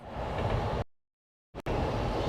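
A Shinkansen bullet train runs past between buildings in Japan after a typhoon, a steady loud rushing rumble that drops out abruptly for under a second midway, then returns just as strong.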